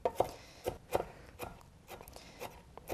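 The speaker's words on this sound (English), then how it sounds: "To chop parsley, you start with your hand on the top of the blade and your other hand on the handle, and you just sort of rock chop through." Knife rock-chopping fresh parsley on a cutting board, soft irregular thuds and taps close up, quiet, with no speech.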